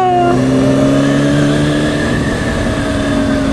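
A motorcycle engine revs up and holds a high, sustained drone that trails on after the throttle is blipped, showing a delayed throttle response. It sounds loud and close, with no voices.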